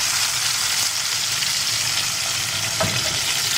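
Chicken pieces for a green curry sizzle steadily in a hot pan with continuous frying hiss, plus a brief stir or clink near the end, close up and without talk.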